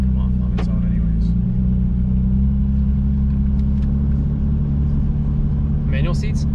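S54-swapped BMW E36 idling and rolling with a deep, steady low engine drone throughout, while people talk briefly over it inside the car.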